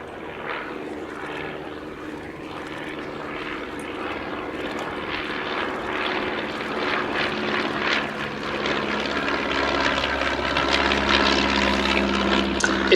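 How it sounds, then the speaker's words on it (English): A de Havilland DH.82A Tiger Moth biplane flies past at an airshow, its propeller engine droning steadily and building louder as it approaches, with no talk. "So here is Danny Williams in his Tiger Moth."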